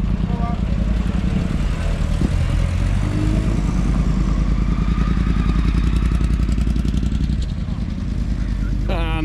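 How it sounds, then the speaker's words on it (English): A loud motorbike engine roars nearby leaving a car and bike night, revving hard with rising pitch before easing off as it brakes, heavy continuous mechanical noise throughout. "And the motorbike straight on the brakes."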